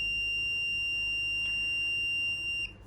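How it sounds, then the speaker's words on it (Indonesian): The buzzer on a student-built ultrasonic distance-sensor circuit with LEDs and an LCD sounds as an object comes within 10 cm. It gives a steady, loud, piercing electronic tone that holds nearly throughout, then cuts out near the end. "ketika sensor ultrasonik mengukur jarak kurang dari 10 cm, maka yang terjadi adalah buzzer menyala"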